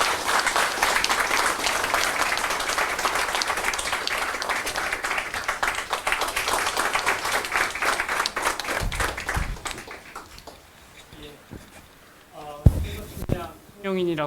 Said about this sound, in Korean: 여러분 박수로 맞이해 주세요.